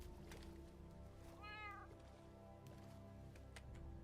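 A cat meows once, briefly, inside the modded Minecraft game GregTech, heard over a steady, dense bed of game music and ambient sound.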